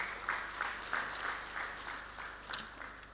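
Audience applause at a stakeholders validation session, a moderate, steady patter of clapping from a room of people that gradually fades.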